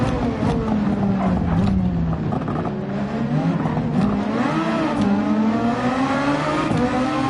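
An F1 race car engine in a racing video game revs and sweeps up and down through the gears, loud and close, with another car's engine joining near the end.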